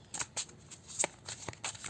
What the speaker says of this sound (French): On va se tirer une carte hein